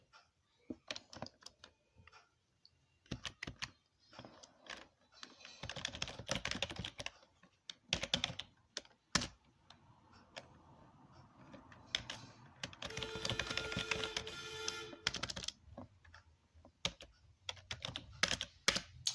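Irregular bursts of typing on a computer keyboard during a programming session, with clusters of quick keystrokes, pauses and denser stretches, close and fairly quiet with no talk.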